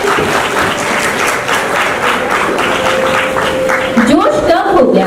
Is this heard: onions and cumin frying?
no